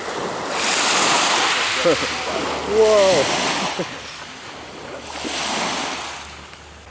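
Ocean surf rolling in waves of whooshing noise with gusty wind on the microphone, and a voice briefly exclaiming.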